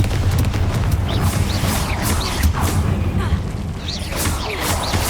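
Confringo explosion spell blasts in Hogwarts Legacy, a string of booming fiery bursts with whooshing tails, loud and close, amid battle noise with a voice speaking.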